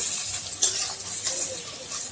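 Food sizzles and crackles in hot oil, a constant bright hiss with occasional soft utensil scrapes.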